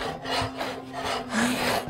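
A hand saw cuts wood for a Lu Ban lock puzzle, its strokes rasping back and forth in a steady rhythm, close and moderately loud.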